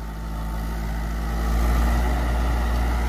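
A Mahindra 275 DI tractor drives a Shaktimaan 7-foot rotavator, giving a loud, steady low engine drone with a deep rumble that swells slightly partway through and continues without pause, with no voices.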